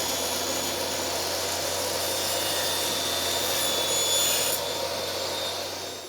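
A power saw cuts a picture-frame piece held against a stop block on a jig, a loud continuous whine that tapers off as the blade spins down at the end.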